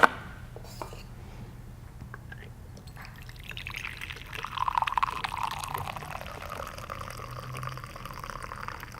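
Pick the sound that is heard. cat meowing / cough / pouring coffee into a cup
pouring coffee into a cup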